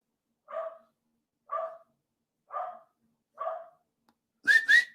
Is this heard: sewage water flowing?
no